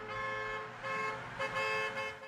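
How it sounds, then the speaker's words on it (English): Minibus horns honk on a busy street in Accra, a run of sustained, overlapping toots that are loud and close, with traffic noise beneath them. "where the streets hummed with the sound of trotros honking impatiently"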